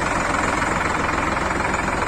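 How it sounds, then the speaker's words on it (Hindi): An Indofarm tractor engine runs loud and close, a steady throbbing chug with a fast regular knock as the tractor sits ready to leave, with no voices. "दोस्तों, ट्रैक्टर जाने के लिए रेडी हो चुका है"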